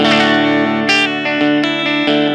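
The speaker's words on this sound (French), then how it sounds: "on a la position chevalet qui va être la plus utilisée en son en distorsion" Ibanez Gio electric guitar on the bridge pickup with heavy distortion, a run of sustained, saturated notes and chords ringing loud and close with sharp pick attacks, no talking.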